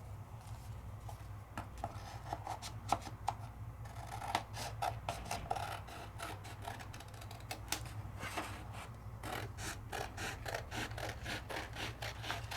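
Scissors snip through card paper while Christmas cards are trimmed, a quiet irregular run of short cuts and crisp rustles over a steady low hum, with no voices.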